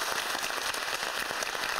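Studio audience on a Korean talk show bursts into a brief, dense round of applause, steady and close, lasting under two seconds.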